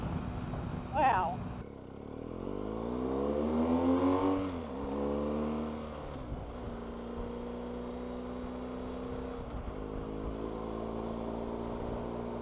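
A motorcycle engine rises in pitch as the bike accelerates on the road, a loud steady drone with a long sweeping climb, wind rush throughout and a brief burst of speech near the start.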